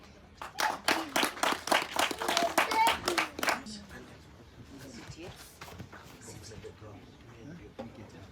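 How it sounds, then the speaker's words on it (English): Audience clapping at a launch event: a few seconds of lively, close hand claps from a modest crowd that stop abruptly, followed by quiet room murmur. "Beautiful souls, clap for them."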